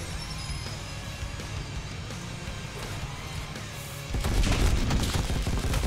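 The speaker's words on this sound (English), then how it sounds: "I get to use his Tommy guns." Tommy gun fire in the video game Madness: Project Nexus, rapid dense bursts of automatic shots with a steady mechanical rattle that grows louder and heavier toward the end, amid game noise.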